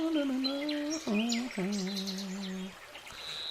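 Birds call and chirp outdoors in a close, clear run of tonal, warbling notes with short pauses, sounding on their own with no talk over them.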